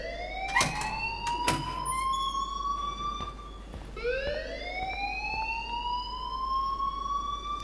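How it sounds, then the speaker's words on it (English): School fire alarm in the Life is Strange video game, an electronic siren sweeping upward in repeated rising wails with harmonics, loud and close, and one short break before the next sweep. "please turn off that alarm since that's your job."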